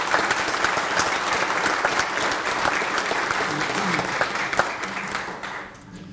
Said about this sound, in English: So I think Marty deserves a round of applause in absentia.